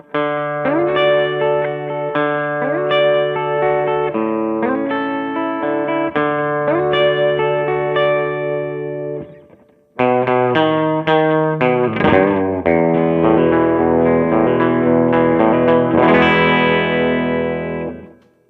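An electric guitar plays through a close-miked amp speaker with a distorted, effects-laden tone: ringing chords and picked phrases that stop briefly near the middle, then resume with busier lines before fading out.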